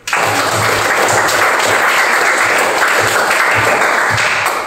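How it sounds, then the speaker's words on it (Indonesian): A Year 5 classroom breaks into steady, loud applause after a group presentation on digestion, a continuous wash of many hands clapping close by for several seconds. "Terima kasih ya. Tepuk tangan."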